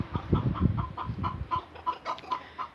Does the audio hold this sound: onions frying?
no